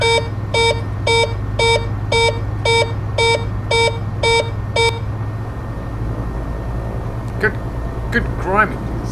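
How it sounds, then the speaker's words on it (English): In Flight Sim World the Arrow III plane's cockpit warning tone beeps in a fast regular series over a steady engine hum for about five seconds, then stops, leaving the drone and a few brief spoken sounds. "Being beeped at."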